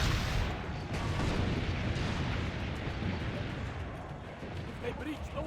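Heavy, continuous rumbling blasts of cannon fire in the video game Assassin's Creed Brotherhood, loud and dense, with a player talking over the barrage.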